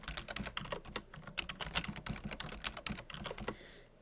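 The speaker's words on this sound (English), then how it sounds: "I'm just going to type in my password for my admin account" Rapid typing on a computer keyboard as a password is entered, a close, steady patter of individual key clicks lasting several seconds before stopping.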